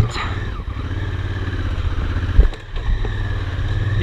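A heavy enduro dirt bike engine runs steadily during an off-road ride, a close rumbling drone with a sharp thump near the middle and some clatter.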